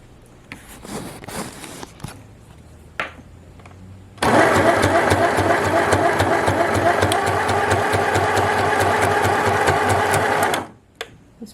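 A compact portable sewing machine runs with no fabric under it, starting up with a loud, steady, even mechanical whir that holds for about six seconds and then stops. Light handling sounds come before and after.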